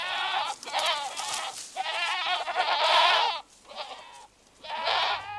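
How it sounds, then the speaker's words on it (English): Goats let loose in a forest bleat loudly in a series of long, wavering calls, several overlapping voices close by with short pauses between bursts. "Goats let loose in the forest are very destructive, browsing just about anything they can reach."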